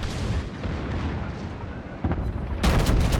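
Secondary guns on the SMS Nassau battleship firing in World of Warships, a rumbling barrage of booming blasts with a loud sharp volley near the end, no talk.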